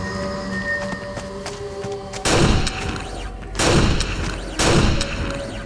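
Gunfire in the video game Aliens vs Predator, played as the Marine, comes as three loud bursts spaced about a second apart over a low droning background.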